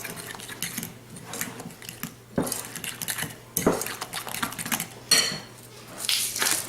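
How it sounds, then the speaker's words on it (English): Cheese being stirred into carbonara sauce, with repeated metal-on-bowl clinks and scraping taps in irregular bursts, close and fairly sharp, with a faint background hum. "And I'm going to give that a good stir."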